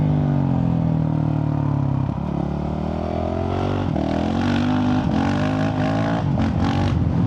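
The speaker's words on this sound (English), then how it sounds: "we're cruising 90 k's now in 6th gear" A Honda CRF450RL motorcycle with a stage 2 tune cruises at about 90 km/h in sixth gear, its loud, steady engine drone holding near-constant pitch and rising slightly toward the end, with wind rush over it.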